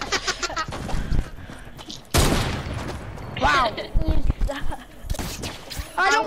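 Sniper gunfire in the video game Fortnite: a sharp, loud report cracks out midway, followed by further bursts of game action while players talk excitedly over it.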